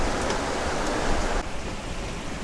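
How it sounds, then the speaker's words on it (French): A strong squall blows across a sailboat at sea in gusts of around 30 knots, a loud, dense rush of wind and water that drops off sharply partway through. "Un beau grain."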